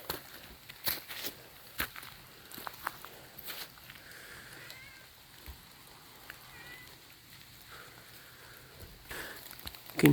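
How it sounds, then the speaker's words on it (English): Meltwater from snow on trees dripping and pattering in the Pacific Northwest after a November 2024 bomb cyclone, mixed with light rain; scattered irregular drops and taps sound near and far over a faint steady background. "You can hear it melting off the trees."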